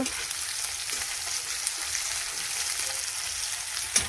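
Steady sizzling of chopped onions frying in a pan with kohlrabi and potato, a dense hiss with a faint stir near the end and no speech.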